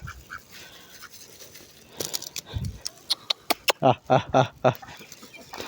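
Farmyard ducks and chickens gather as rice is scattered for them. A brief stretch of quiet rustling gives way to a quick run of loud, close quacks and squawks.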